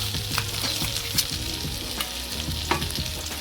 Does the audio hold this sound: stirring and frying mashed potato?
yes